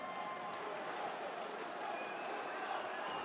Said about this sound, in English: And the away supporters have something to cheer.